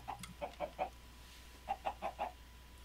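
Two short bursts of clucking from video game chickens, several quick clucks in each, fairly faint against a low steady background hum.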